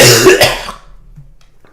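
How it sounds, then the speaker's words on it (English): A single close, loud cough with a throat-clearing edge bursts out on its own and fades quickly into near silence. "That one just came out of nowhere, that cough."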